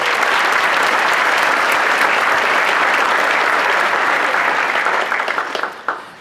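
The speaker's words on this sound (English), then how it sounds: "Let's give them another round of applause" Dense, loud, sustained applause from an audience at a school awards ceremony for underclassmen holds steady and then tapers off with a few final claps.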